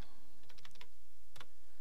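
A few computer keyboard keys pressed in two short bursts, crisp close clicks separated by quiet pauses, no talk.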